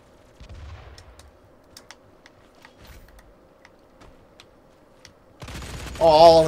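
Scattered faint shots and ticks from the Doom beta video game pop irregularly through a quiet stretch, followed by someone talking loudly over the game at the end.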